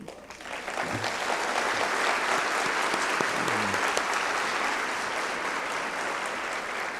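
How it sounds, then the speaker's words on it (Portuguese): A lecture audience applauds steadily for several seconds, dense clapping at an even loudness that continues throughout. "Eu estou aqui aplaudindo a dona Adelaide."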